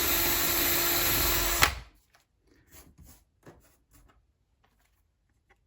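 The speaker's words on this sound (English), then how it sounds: "for this one I use about a 9/16 drill bit" A power drill with a 9/16-inch bit whines loudly and steadily for under two seconds, then cuts off abruptly, followed by quiet scattered clicks and handling noises.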